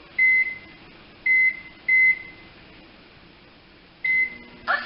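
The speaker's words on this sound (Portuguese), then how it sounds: "você deve colocar seu bolo no micro-ondas" A microwave oven hums faintly while cooking a brownie, punctuated by four sharp electronic beeps in an uneven rhythm, close and clear with no voices.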